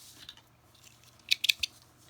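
Thread trimmers snip a handmade fabric tag with a few quick, close, crisp cuts in a row after a quiet pause.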